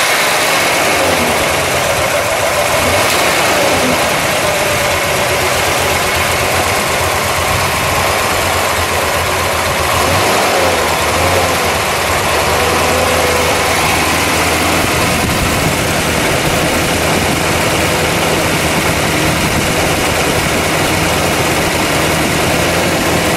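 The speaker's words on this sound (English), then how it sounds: "Exhaust note at idle." A 1970 Chevrolet Chevelle SS with an LS6 454 V8 engine idles with a deep, steady exhaust rumble, loud and close, running evenly without pause.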